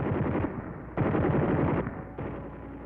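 Machine guns of P-47 Thunderbolt fighter aircraft fire in a ground test, loud continuous bursts of rapid gunfire with brief breaks between them, no talk.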